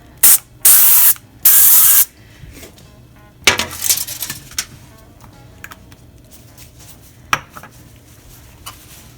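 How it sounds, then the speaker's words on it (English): Olive oil spray misted in short hissing bursts over a foil-covered pan, three loud sprays close to the mic followed by light clinks and rattles of handling. "I'm just going to use an olive oil spray and just do a light spray on a foil covered pan"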